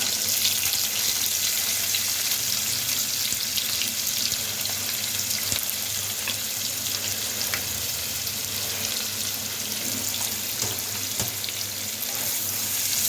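Sliced onion sautéing in a pan, giving a steady, close frying sizzle that runs without a break from start to finish, with no talk over it.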